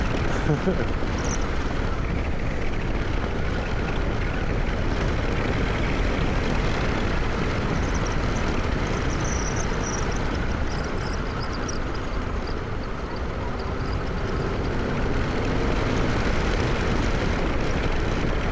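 A 2024 Harley-Davidson Street Glide or Road Glide motorcycle on a test ride, its engine and wind noise forming a steady, loud, broadband roar that holds for the whole stretch without pause.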